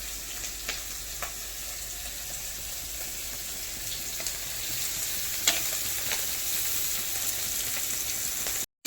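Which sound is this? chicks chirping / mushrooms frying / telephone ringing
mushrooms frying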